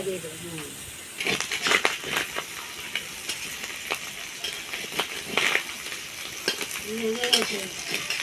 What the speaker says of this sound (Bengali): এবার আমি মাছটা তেলের মধ্যে দিয়ে দিচ্ছি।